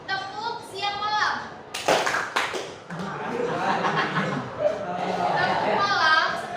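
Children in a classroom clap in short bursts during a rhythm clapping game, mixed with a woman's instructions, children's voices and some laughter.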